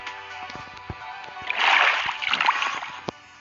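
Water sloshes and splashes in Minecraft Bedrock as it is removed, a rushing burst swelling midway and fading out over a steady musical background, with clicks scattered through.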